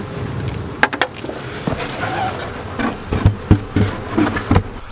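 Honey bees buzz around an open beehive during an early spring inspection, a dense close hum broken by sharp knocks and taps of hive parts being handled.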